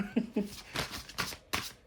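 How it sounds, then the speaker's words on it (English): Several quick bursts of rustling, riffling card noise come in short clusters, loud and close, with a brief pause between each shuffle. "These are large cards and they're hard to shuffle."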